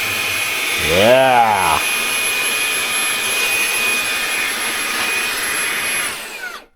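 Fanttik Slim V8 handheld vacuum running in turbo mode, a steady loud high-pitched motor whine with a rising whoosh early on as something is sucked up, holding for several seconds before cutting off; a brief word is spoken near the start.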